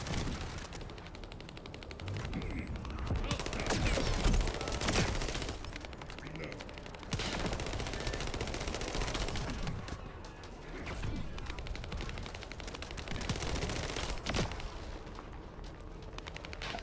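Sustained weapon fire in the video game The First Descendant during a boss fight, loud and continuous with machine-gun bursts and explosive booms layered over one another.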